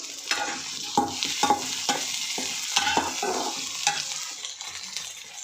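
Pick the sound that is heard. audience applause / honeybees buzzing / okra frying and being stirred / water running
okra frying and being stirred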